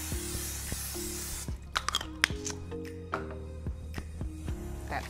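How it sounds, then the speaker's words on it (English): Cooking spray hisses onto an air fryer insert in a kitchen, a steady airy spray for about a second and a half, followed by faint taps and a low background hum. "I'm gonna spray this with some cooking spray because last time I made the wings, they stuck a little bit"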